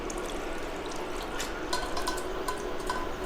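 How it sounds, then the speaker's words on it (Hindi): Water trickles and splashes into a pot of dal for dal dhokli, a soft continuous pour with a few drips, fairly quiet and without speech. "अब इसमें हम थोड़ा सा पानी डालेंगे।"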